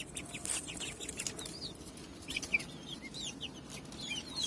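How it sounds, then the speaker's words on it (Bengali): Two Tiger breed chickens kept in a coop under a staircase cluck on and off at moderate distance, short calls scattered over a steady low rumble. "দুইটা টাইগার মুরগি আছে"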